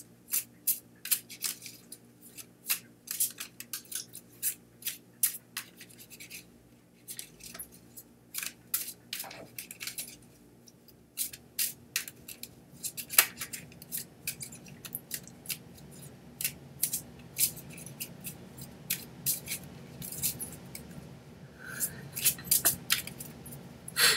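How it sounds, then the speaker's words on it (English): Playing cards are shuffled over and over, with soft riffling and sharp slapping clicks in irregular bursts, close and fairly quiet. "my shuffling is very exciting."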